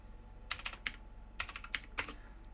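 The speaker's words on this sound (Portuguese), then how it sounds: "Vou digitar" Typing on a computer keyboard, three quick bursts of light clicking keystrokes with short pauses between them, quiet and close with no talk.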